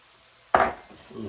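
Golden-brown onions and two cloves of chopped garlic tossed in a pan for a dhaba-style chicken drumstick curry: one sharp clattering scrape and sizzle burst, then a softer settling rustle.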